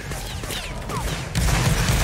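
Musket volley fire in a Napoleonic Wars battle game, a rolling crackle of many gunshots that swells louder partway through, dense and continuous with no talk over it.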